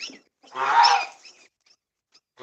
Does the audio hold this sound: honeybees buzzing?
no